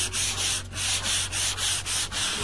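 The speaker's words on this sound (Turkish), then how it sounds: "bir kat boyadıktan sonra özellikle ilk kattan sonra mutlaka zımpara yapmak gerekiyor" Steady back-and-forth hand sanding strokes rasp across a painted wood surface, about six even passes in a regular rhythm, close and clear.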